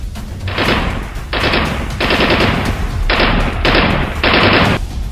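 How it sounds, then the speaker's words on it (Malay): Rapid automatic gunfire as soldiers shoot down at enemies below, loud repeated bursts of a few seconds each separated by short gaps, with a heavy continuous low rumble underneath and no talk. "Lantas Megat dan Hasan mengambil kesempatan untuk menembak musuh yang berada di bawah."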